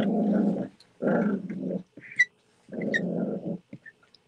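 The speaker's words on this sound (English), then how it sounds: "They're always like puppy wrestling all the time." Puppies wrestling: close, loud bursts of rough growling come in three bouts separated by short gaps, with a few little yips and squeaks between them and no talking.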